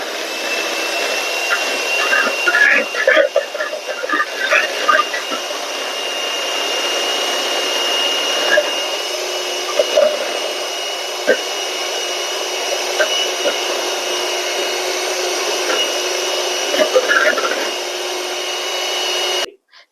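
Electric hand beater whirring steadily through ghee cake batter with vanilla essence, a loud continuous motor drone with faint clicks of the beaters against the bowl throughout.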